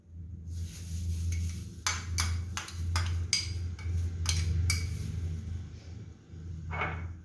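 Spoon clinking against a bowl while chicken, egg and oil are mixed into potatoes for homemade cutlets, a series of sharp metallic taps over a low mixing rumble, moderately close and fairly quiet.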